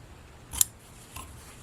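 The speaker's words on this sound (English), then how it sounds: "take your scissors and clip like this, close to the stitches" Scissors make two quiet, crisp snips, one sharp and one softer about half a second later, clipping fabric corners close to the stitching on a formal dress.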